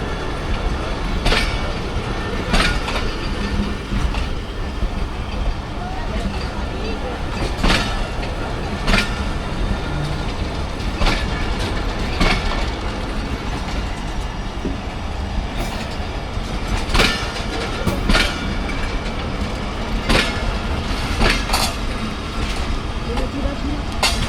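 A safari train rolls past Taxila Cantt junction railway station with a continuous rumble and repeated sharp clicks from the wheels over the rail joints, steady throughout at close range.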